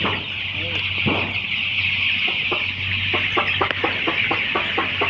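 Chickens cluck close by in quick repeated bursts that grow denser toward the end, over a steady background hum.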